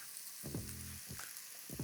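Onions, salt pork, garlic, parsley and sun-dried tomatoes fry in a pan with a constant close sizzle, broken by a few low scraping stirs against the pan, and nobody talks.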